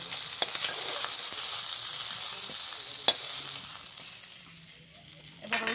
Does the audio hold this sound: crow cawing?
no